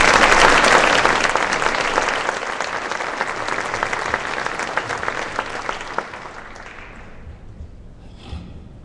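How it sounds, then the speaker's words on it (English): A crowd at a school pep rally at Assumption gives a loud round of applause, heavy at first, then gradually thinning out and fading away over about eight seconds. "let's give them a round of applause"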